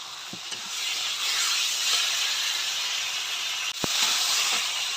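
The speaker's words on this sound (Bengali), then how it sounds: "ভাজা আলু এবার দিচ্ছে" Fried potatoes go into a simmering thin katla fish curry, producing a steady hiss and sizzle close by with a few soft knocks and a sharp clack near the end.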